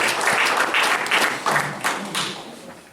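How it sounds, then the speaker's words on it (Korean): Audience applause at a Korean church prayer gathering, honoring a soprano singer; dense clapping from a crowd, fairly loud and steady, tapering slightly toward the end. "다시 한번 박수 해주시기 바랍니다."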